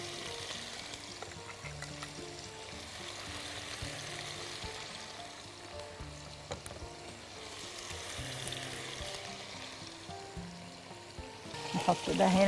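Chicken breasts frying in a pan give a steady, moderate sizzle that runs the whole time with no talk, a brief louder clatter of handling coming at the very end.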